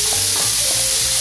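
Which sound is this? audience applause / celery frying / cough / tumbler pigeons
celery frying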